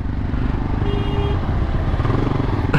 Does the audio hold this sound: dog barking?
no